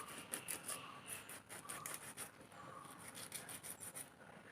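Rasping, scraping knife strokes as a sardine is cut open during cleaning, a close series of short uneven rubs repeating steadily with no talking.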